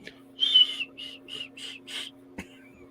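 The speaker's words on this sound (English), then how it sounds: "Whistle while you block." One person whistles close up, a bright rising note followed by four short whistled bursts in a steady run and a brief click, all over a low steady hum.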